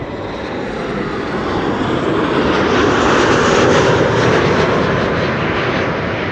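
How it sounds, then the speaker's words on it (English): A Transavia airliner on arrival at Amsterdam Schiphol roars loudly overhead, its engine noise building to a peak midway and then easing slightly, with no voices. "Transavia flight 6144 arriving from Alicante"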